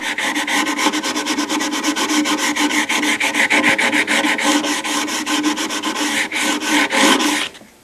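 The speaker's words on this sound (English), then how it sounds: "So what you can do is come back with your sandpaper and lightly sand again with the glue." Sandpaper rubs rhythmically over CA glue filling the fret ends of a guitar neck, a steady series of close, loud rasping strokes about two per second, ending abruptly.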